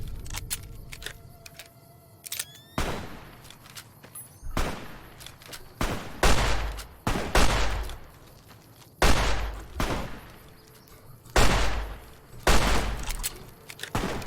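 Gunfire in the video game Fallout: New Vegas comes as a series of sharp, fairly quiet shots, single cracks and short bursts, spaced irregularly over a low background.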